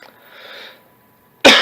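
A person's sudden single cough, loud and close, following a soft breathy inhale and a brief silence.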